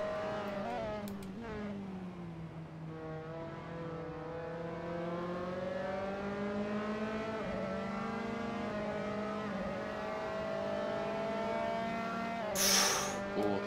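Race cars in a sprint series at Donington Park howl with a sustained, loud engine note that climbs and drops through gear changes, with a short sharp burst near the end.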